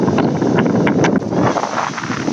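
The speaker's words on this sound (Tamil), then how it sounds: "ரொம்ப காத்து அடிக்குது." Strong wind at the seashore at Dhanushkodi roars and buffets the microphone loudly and continuously, with gusty rushing swells throughout.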